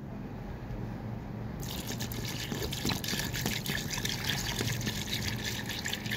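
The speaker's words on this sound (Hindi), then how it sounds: "अब इसमें पानी डालेंगे," Water is poured into a pressure cooker holding whole garlic bulbs, about three glasses of it, a steady splashing gush that grows louder and continues throughout at close range with no talk.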